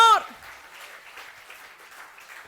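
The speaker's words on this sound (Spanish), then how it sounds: "Vamos, dele fuerte palmas al Señor" A church congregation claps for God during a Spanish-language service: a brief voice opens, then a diffuse, steady patter of many hands continues at moderate distance.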